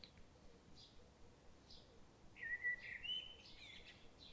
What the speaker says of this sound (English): the birds still singing softly in the distance